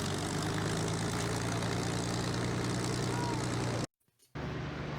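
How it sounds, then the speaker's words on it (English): A motor drones steadily with a low, even hum and a faint higher whine, loud and continuous, then drops out abruptly for a moment near the end before resuming. "Here we go. Listen to that motor."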